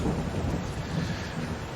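Rain and rumbling thunder from the farming game Farming Simulator 22, a brief low, continuous storm roll under steady rainfall, fairly loud and unbroken, with no talking.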